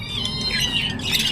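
Harsh, repeated squawks from caged birds at the Mirpur 13 Bottola bird market in Dhaka, loud and close, rising in bursts over a constant market din with no talk.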